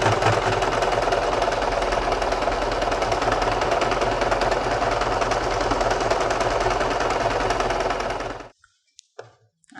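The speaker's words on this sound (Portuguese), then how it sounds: "uma costurinha aqui com zigue-zague, só para dar o acabamento aqui e ele não ficar desfiando" A sewing machine runs a fast, steady zigzag stitch along the edge of fabric, its close, loud mechanical chatter continuing without a break for about eight seconds before it stops abruptly, leaving near silence.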